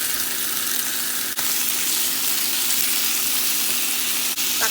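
Chicken pieces go into a pot for Filipino tinola with papaya, giving a steady, close hiss of sizzling and frying that runs unbroken and evenly loud throughout, with no talking.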